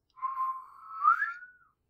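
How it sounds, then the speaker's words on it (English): One long human whistle that holds a steady tone, then slides upward and tails off, close and clear against silence. "Someone whistle, I can't whistle."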